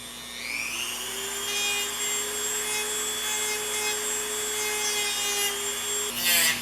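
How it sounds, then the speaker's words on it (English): A Dremel rotary tool carves fine hairlines into wood for an intarsia horse, with a steady high motor whine that rises in pitch as it spins up, holds continuously near the listener, then shifts briefly at the end. "So I practiced using the Dremel at a fast and a slow speed."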